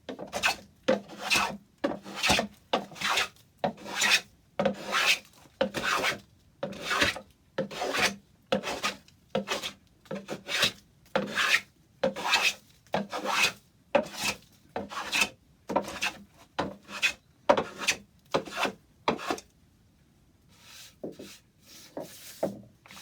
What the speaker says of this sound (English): scrub plane which has a curved blade